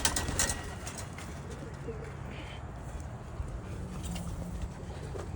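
Young pigeons coo softly inside a loft, low intermittent calls under a steady background rustle with a brief sharper noise at the start.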